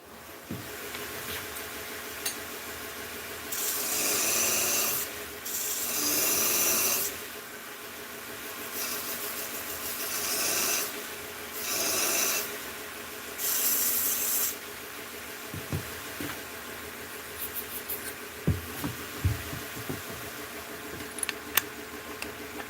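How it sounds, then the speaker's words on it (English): A power sander works on wood in short bursts of coarse, hissing grind, several passes separated by quieter pauses with occasional small clicks and knocks between them. "You know what I'm doing when I jump over to the sander."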